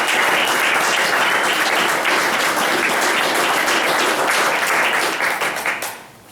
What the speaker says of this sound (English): one more round of applause for our 3 poets so far.